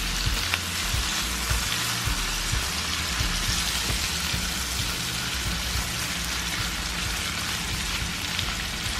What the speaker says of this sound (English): scallops and shrimp we got sauteing in our here pan